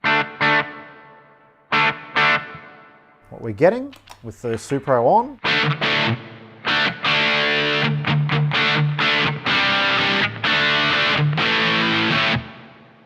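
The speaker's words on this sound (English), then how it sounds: "Lots of reverb happening after there." Distorted electric guitar chords and a short lick through a Supro Drive pedal ring out with a wash of reverb trailing each phrase; a brief spoken remark comes early.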